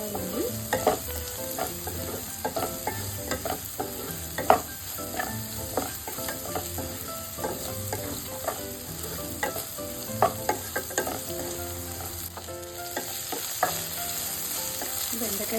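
Okra for bhindi fry sizzles in oil with salt while a spoon stirs it, giving a continuous close crackle broken by soft scraping knocks throughout.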